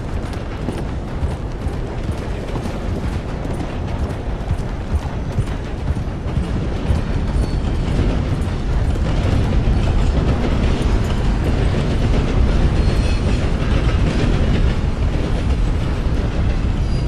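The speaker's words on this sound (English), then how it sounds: "We've seen lots of these trains today, that's for sure." Passing train in the video game Red Dead Redemption 2 near Annesburg: a loud, continuous rumbling roar with rattling wheel noise, building slightly and holding steady for over fifteen seconds.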